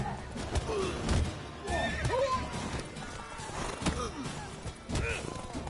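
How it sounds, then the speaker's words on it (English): A horse in The Witcher 3 whinnies and neighs repeatedly in agitation, high wavering cries close by with hoof clops and thumps mixed in. "I like how my horse is like freaking out the whole time."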